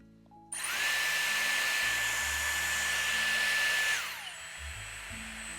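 A Dyson Airstrait hair styler switches on abruptly and blows air with a loud, steady whirring hiss and a high motor whine for about three seconds, then winds down quickly.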